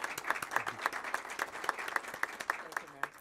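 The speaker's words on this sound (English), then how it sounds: "Let's give her a round of applause." A small group at a city council meeting claps steadily for a few seconds, with sharp individual claps audible rather than a roaring crowd.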